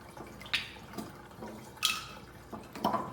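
Water drains out of a soaked charred oak barrel, falling in irregular splashes and drips every half second or so, close and fairly quiet with no talking.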